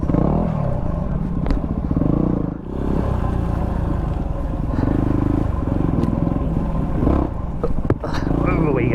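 A Yamaha WR250R dual-sport motorcycle rides enduro single track through dense terrain, its engine droning loudly and surging with throttle blips, close up, while a rider talks over it.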